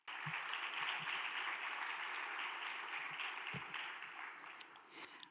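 An audience in a hall applauds a team on stage, a steady wash of clapping from many hands that holds for several seconds, then thins and tapers off near the end.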